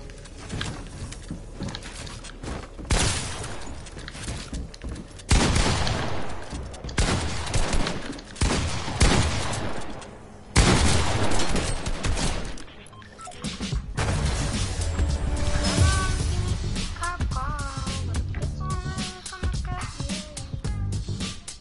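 Dense video game gunfire in a box fight, sustained rapid shooting with crashing impacts and bursts that surge and drop across the stretch, loud and close.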